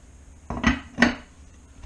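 A heavy lid set onto a cooking pot of Finnish Karelian hot pot, two sharp metallic clanks in quick succession, close and loud, with no talking.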